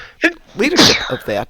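A single sharp sneeze bursts out amid ongoing conversation during a casual morning gaming chat show, loud and close, with people talking before and after it.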